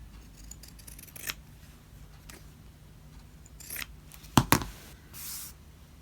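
Pinking shears snip through fabric scraps in a quick pair of crisp crunching cuts, preceded by a few fainter rustles and handling noises, close and otherwise quiet.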